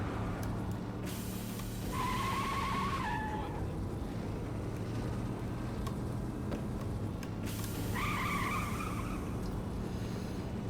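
A car boosting on nitrous in the video game Saints Row 3 roars with a steady engine drone, and two separate whining screeches rise over it.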